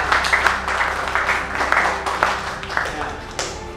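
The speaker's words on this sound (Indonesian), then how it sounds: "beri tepuk tangan buat sahabatnya yang udah jawab" A classroom of students claps for a classmate who answered a question, dense scattered clapping throughout with voices talking and cheering over it.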